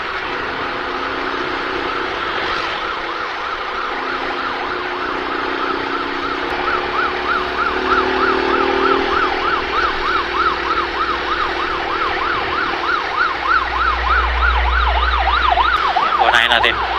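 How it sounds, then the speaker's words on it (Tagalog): An ambulance siren wails on a city road in Manila, its warbling tone growing louder and faster as it approaches, over traffic rumble and a low engine drone near the end. "So bigyan natin ng daan yung mga ambulance"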